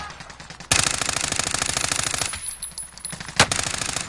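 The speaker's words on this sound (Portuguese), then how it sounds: "Os babacas estão atirando em mim!" Automatic gunfire in Call of Duty Warzone, a rapid steady machine-gun burst kicking in loudly and rattling for over a second, then scattered shots and one sharp nearby crack.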